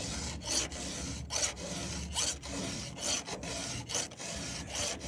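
Repeated rasping strokes of a hand file sharpening a square-ground chainsaw chain, each pass a short scraping rub in a steady rhythm, close and fairly quiet with no talking.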